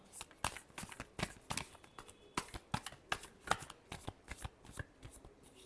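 Tarot cards are shuffled by hand close up, a run of crisp riffling bursts and soft slaps in quick, uneven rhythm.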